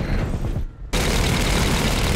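Heavy gunfire from a TV show episode: dense, loud bursts of shots that cut out briefly for a short gap, then resume as a sustained, close barrage.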